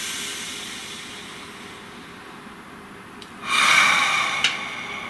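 A single deep, audible breath drawn in and let out, a brief airy hiss rising after a long quiet stretch of faint background noise.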